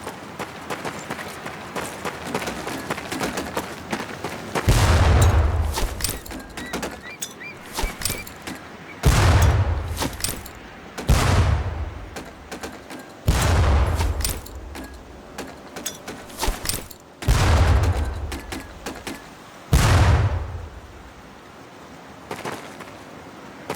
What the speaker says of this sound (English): Pull the pin and let them fly. See if you can hit some of those barrels out there.